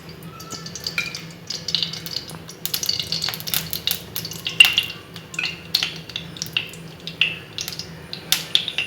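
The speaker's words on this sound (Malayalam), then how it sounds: "നന്നായിട്ട് ചൂടായി വന്നിട്ട് ഇപ്പം നമുക്ക് ഓയിൽ ഒഴിച്ചു കൊടുക്കാം." Oil poured into a hot pan, setting off a light, crackling sizzle with scattered sharp pops and clicks over a faint low hum, moderately close and with no voices.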